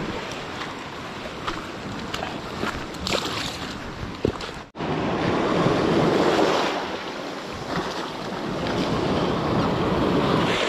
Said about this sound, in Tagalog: Ano na nga alon, malakas na.